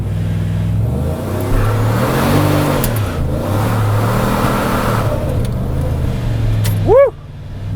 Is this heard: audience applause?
no